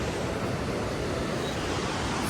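A mountain stream rushes beneath a bridge on a trekking trail, giving a constant, full, close roar of flowing water with no other sounds.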